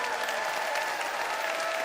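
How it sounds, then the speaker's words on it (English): A brief burst of audience applause voting for a debater on a comedy debate show, dense and sustained clapping throughout, fairly loud and even. "It's time to vote by applause."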